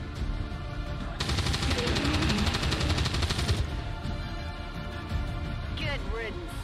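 Weapon fire in XCOM 2, with a long burst of rapid repeated shots followed by a quieter stretch and a short electronic sweep, heard under game voices and dialogue.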